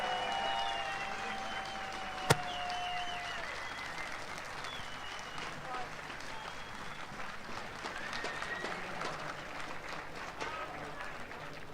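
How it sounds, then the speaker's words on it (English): Sustained audience applause fills the hall for the winners of a CS:GO tournament final, a steady dense clapping with crowd noise throughout and one sharp bang early on. "So one final round of applause and pose for the photos"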